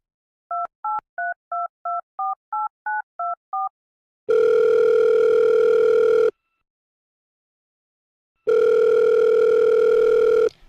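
A telephone call being placed: a quick run of about ten dialing tone beeps, then two long ringback tones separated by a pause, all clean and loud with no voices.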